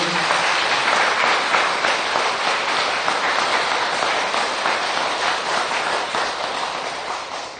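An audience at a Buddhist dharma talk claps together in a loud, continuous burst of applause that holds steady and then gradually thins toward the end.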